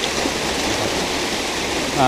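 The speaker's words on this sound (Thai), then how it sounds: "นี่คือน้ำตก" The Mae Sa waterfall in Chiang Mai rushes with a steady, broad roar of falling water close by, and a voice is faintly heard over the constant wash.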